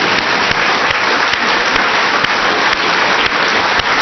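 Audience applause, a dense steady clapping from a crowd that holds at even loudness from start to finish with no voices over it.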